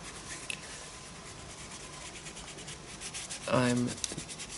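Paint being blended and rubbed across a mixed-media art journal page, a soft continuous brushing and rubbing texture with a louder, brief scrubbing burst near the end.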